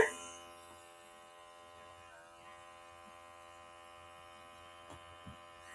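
A makeup airbrush hums steadily and close, its compressor whine with stacked tonal buzz holding evenly for several seconds, with a couple of faint clicks near the end.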